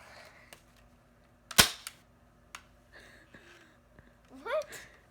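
A toy Nerf gun fires once with a sharp, loud snap in an indoor setting, surrounded by quieter clicks and handling noises, with a voice rising near the end.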